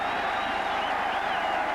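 Saints rugby fans at a St Helens versus Bradford match roar in a broad, steady wash of applause, jeers and cheers, distant and sustained without a break.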